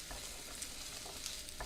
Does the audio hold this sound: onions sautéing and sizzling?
yes